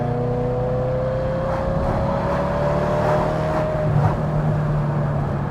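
Maserati Cambiocorsa engine accelerating in third gear toward 4,500 RPM, a loud, sustained rising engine note heard from inside the car, steady and continuous without speech.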